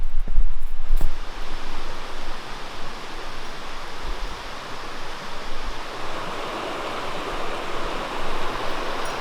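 A creek rushes steadily through a dense, moist, dripping forest, with plants growing in the middle of the stream; a loud, even wash of flowing water fills the whole stretch, with no voices.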